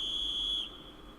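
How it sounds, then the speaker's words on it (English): Guards in the video game Trails of Cold Steel 4 blow a whistle, a single loud, steady high-pitched blast that cuts off after about half a second over a low background hum. "A whistle is sounded."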